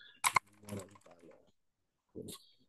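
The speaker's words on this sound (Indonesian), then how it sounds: "silakan di kolom URL ini silakan Bapak Ibu ketik saja PPG IAIN" Someone types a search into a computer web browser's address bar: a quick burst of clicking keystrokes, then a short second run, with a person speaking over and between them.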